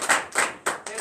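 Church congregation clapping in acclamation at a morning prayer service in Comè, Benin, three or four loud, distinct bursts of hand claps in quick succession, fairly close.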